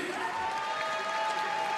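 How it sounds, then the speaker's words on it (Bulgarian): Crowd applause and cheering at an MMA cage-fight event as a fighter in the 70 kg category is introduced, a continuous roar of clapping and whoops with a steady tone over it. "Вашите аплодисменти!"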